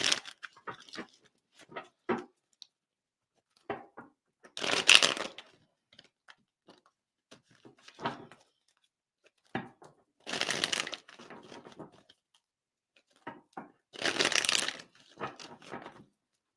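Tarot cards being shuffled and pulled for a reading, close papery swishes and crisp card slaps in separate bursts with quiet gaps between them, no voice.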